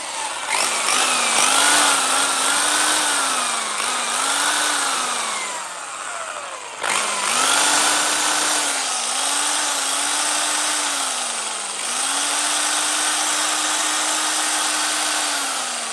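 Electric drill whirring at a workbench, loud and close, spinning up in several short bursts with pitch rising and falling, then a longer steady run near the end.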